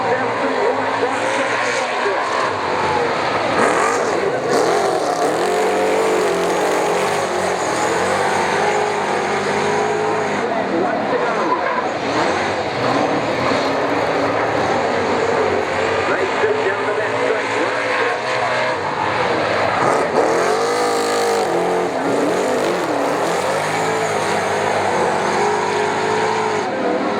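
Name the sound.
super saloon race cars racing at Waikaraka Park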